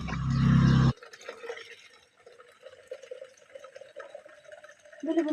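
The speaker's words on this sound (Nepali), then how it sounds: "चिसो पानीले नुहाइदिन्छु" Cold water splashes and trickles over a small pet during a bath, a short loud gush at first, then lighter drips and running water, with a second splash at the end.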